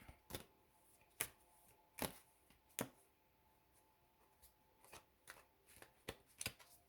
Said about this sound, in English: I'm struggling to shuffle a little bit without knocking over the tripod